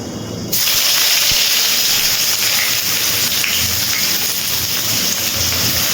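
Chopped onions dropped into hot oil with tempered spices for a ridge gourd, potato and poppy seed dish, a loud steady sizzle that bursts in abruptly after a brief moment and holds at an even hiss throughout.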